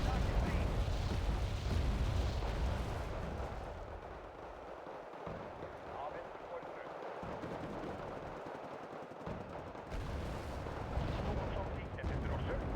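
Counter-battery artillery fire rumbles through a video game battle, with heavy booming blasts and dense rolling gunfire, loudest at the start and continuing in repeated bursts, with talk mixed in.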